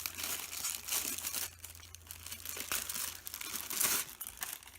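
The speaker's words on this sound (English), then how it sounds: "So let me pull it out of its plastic here." Plastic wrapping crinkles and crackles in bursts as a printed navy-blue Hobonichi planner cover is pulled out of it, close and fairly loud, with short pauses between handlings.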